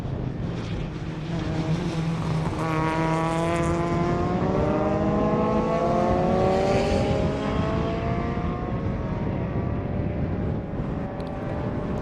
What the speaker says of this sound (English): Probably second gear for those cars out of that hairpin.